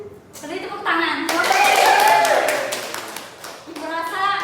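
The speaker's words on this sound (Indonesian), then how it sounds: "Beri tepuk tangan" Schoolchildren clap together in a classroom during a religious education lesson, a burst of quick, lively clapping that swells and then trails off, with children's voices and chatter mixed in.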